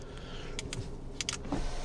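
Porsche 992 electric convertible roof closing, a steady low motor hum with soft mechanical clicks and a brief clunk near the end, heard close up with no talking.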